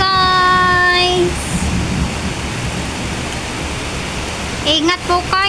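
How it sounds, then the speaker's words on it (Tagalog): Heavy rain pours in a dense, steady hiss during a storm, with faint whistling tones at the start and end and brief voices near the close. "Ang lakas ng ulan."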